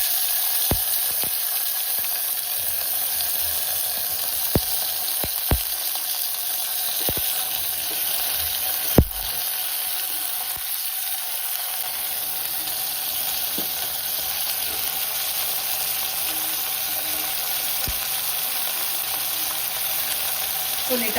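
Tomatoes and onions fry in a pan for a tomato chutney, giving a steady, close sizzle that runs unbroken throughout, with a few faint clicks and knocks.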